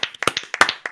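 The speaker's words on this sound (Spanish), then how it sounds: "Un aplauso para los tres managers." At an esports broadcast, a few people clap briskly in a quick irregular patter of sharp, close handclaps for three team managers.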